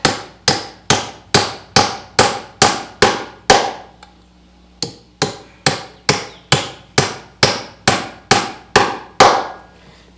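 Nails are hammered into a wooden anvil stand in two steady runs of sharp, ringing blows, about ten strikes each, close and loud, separated by a short pause.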